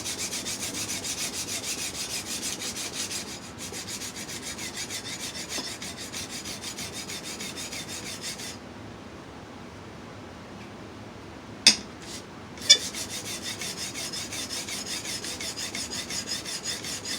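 A kitchen knife blade being stroked along a stone on a homemade guided sharpener, giving a steady close-up rasping scrape that pauses partway, then resumes after two sharp clicks.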